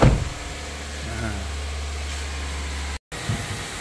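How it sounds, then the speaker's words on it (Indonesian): A Honda BR-V engine held steady at 2000 RPM runs at a smooth hum with a faint injector hiss on top, close by, briefly cut out near the end. "suara mesin super halus, hanya suara injektor saja yang kedengaran"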